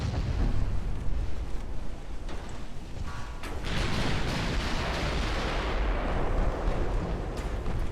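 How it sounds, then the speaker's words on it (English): Naval 8-inch guns fire during a battle in Ultimate Admiral: Dreadnoughts, heavy booming blasts rolling over one another against a constant rumble of sea and combat, with no talking. "Get our 8-inch firing at that destroyer."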